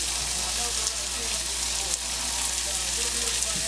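Onions fry in a cast iron pan, making a dense, even, close sizzle that holds steady without pause.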